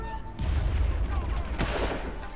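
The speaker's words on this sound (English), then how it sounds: "Let's just throw grenades." Grenades explode in the Far Cry video game, heavy booming blasts and rumbling bursts filling most of the short stretch, close and loud, with a burst of crackling debris partway through.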